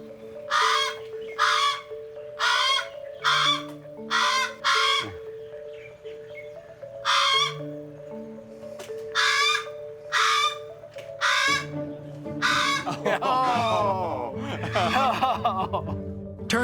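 A Hawaiian crow gives a run of loud, close, harmonic calls in bursts of about one second, separated by short pauses, with a rougher, more rapid stretch of calling near the end.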